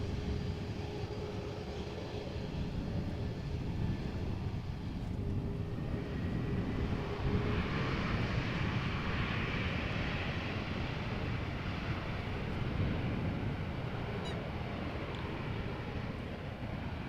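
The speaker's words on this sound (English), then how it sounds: "just a really quiet airplane that is almost silent when passing by" A very quiet airplane passes by at Amsterdam Schiphol Airport, a low, steady rumble that rises gently and fades, distant and almost hushed.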